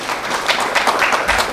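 Audience applause at a convention speech fills a hall with steady clapping from many hands. The clapping is loud and close and keeps up evenly for the whole short stretch.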